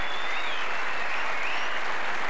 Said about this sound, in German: Hören Sie sich den Beifall an.